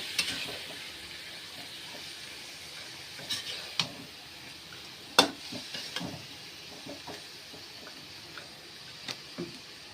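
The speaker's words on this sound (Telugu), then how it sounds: "అయితే ఇది బాగా ఫ్రై అయ్యే వరకు బాగా వేగాలి" Food frying in a pan while being stirred, a soft steady sizzle broken by scattered clicks and scrapes of a utensil against the pan, close and moderately loud with no voices.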